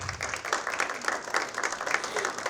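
Applause from an audience at a book presentation, a moderate, slightly uneven patter of many hands clapping with individual claps standing out.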